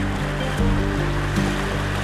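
Steady rushing of the White River in the Montana wilderness, full and close around a paddled boat, with a couple of soft splashes from the paddle strokes.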